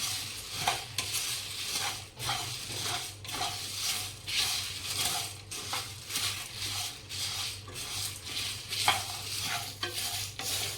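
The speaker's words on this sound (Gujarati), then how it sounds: "હવે આપણો મસાલા શેકાઈ જવા આવ્યા." Garam masala spices roast in a dry pan, with a steady soft sizzle and frequent scraping stirs of a spatula in an uneven rhythm, close and moderately loud, with no voices.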